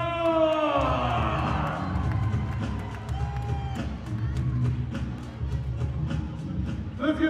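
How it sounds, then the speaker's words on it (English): A crowd at a Harlem Wizards exhibition basketball game in a school gym cheers and whoops loudly, with scattered claps and squeaky sneakers continuing underneath as the noise gradually eases. "Let's give them both a big round of applause, y'all"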